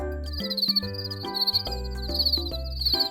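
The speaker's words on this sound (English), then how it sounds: "It's the sound of cicada." A cicada chirps in shrill, repeated buzzing bursts over a bouncy children's melody, rising and falling in a regular rhythm.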